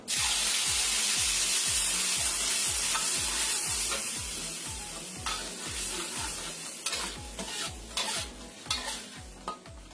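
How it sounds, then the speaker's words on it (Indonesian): Ground spice paste sautéing in about three tablespoons of oil in a pan, a bright steady sizzle with quick regular scraping stirs, close and loud, later broken by a few sharper clinks. "Kita tumis bumbu yang sudah kita haluskan."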